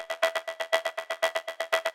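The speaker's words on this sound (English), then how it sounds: "I wanted to add a synth cushion," A synth cushion programmed in Serum pulses in a steady 1/16 rhythm, each short bright stab cut off by gating. The repeating sequence is even and upfront, with nothing else playing.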